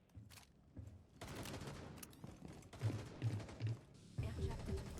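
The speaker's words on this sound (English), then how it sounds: "Air jab detonated." An air jab gadget detonates during a Rainbow Six Extraction mission, a burst of thumps and crackling blasts mixed with rapid gunfire and game sound effects, while voices talk over the action.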